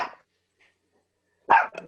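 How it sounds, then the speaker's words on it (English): A puppy barks twice, one short yip followed by a sharper, louder bark, near the microphone with silence between them. "Oh, sorry, it's my puppy."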